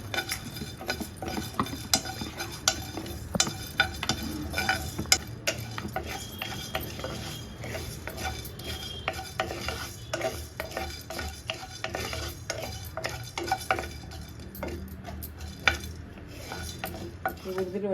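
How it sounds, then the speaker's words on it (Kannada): Cumin seeds, cloves and a cinnamon piece dry roasting in a pan, with a steady scraping stir and light clinks of a spoon against the metal throughout, no voices. "1 ಸ್ಪೂನು ಜೀರಿಗೆ, 5 ಲವಂಗ, 1 ಚಕ್ಕೆ ಪೀಸ್. ಇದನ್ನು ಡ್ರೈ ರೋಸ್ಟ್ ಮಾಡ್ಕೋಬೇಕು."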